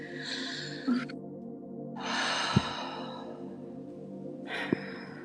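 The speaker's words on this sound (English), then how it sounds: "Go ahead and breathe for me." Deep, slow breaths during an emotion-release session: three long exhalations with quiet pauses between them, close and fairly soft, with a faint gasp and a couple of small clicks.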